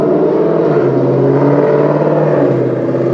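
A car engine runs steadily at high revs, a loud continuous droning roar with a strong low harmonic hum close by, holding at the same pitch throughout.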